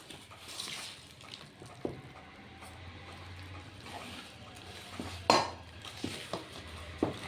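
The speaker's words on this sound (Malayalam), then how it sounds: "ശർക്കരയെ നമ്മൾ കുറേശ്ശെ ഇട്ട് ഇളക്കി മിക്സാക്കി എടുക്കണം" Jaggery stirred into a Kerala banana and bay leaf sweet mixture in a pot, with soft scraping and scattered clinks of a spoon against the pan, faint and close, plus a few sharper knocks.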